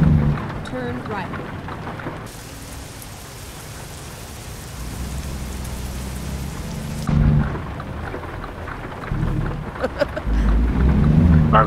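A dense hiss of heavy rain in the truck-driving video game American Truck Simulator swells and fades, with voices talking over the downpour before and after.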